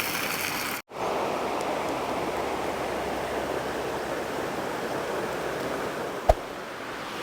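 Waterfall at an outdoor cooking spot, a steady broadband rush of falling water filling the whole scene, constant and fairly loud, with a brief dropout near the start and a single sharp click later.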